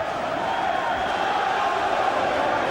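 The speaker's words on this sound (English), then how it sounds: "The crowd chanting" Dense, continuous roar of a boxing arena crowd chanting and cheering behind Nigel Benn in his fight against Gerald McClellan, loud and sustained with no breaks.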